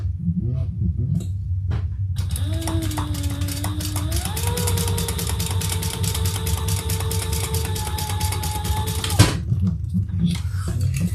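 Sewing machine stitching across a line runs as a close, steady mechanical whir with a rapid needle-clatter rhythm for about seven seconds, starting and stopping cleanly, with quiet room hum around it and no voices.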